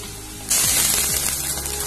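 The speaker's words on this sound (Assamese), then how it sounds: "পিঁয়াজখিনি কালাৰটো চেঞ্জ হোৱালৈকে ভাজি ল'ম" Chopped onions hit hot oil in a pan for an Assamese home-cooked dish, bursting into a loud, steady sizzle halfway through after a quieter stretch, then frying on continuously.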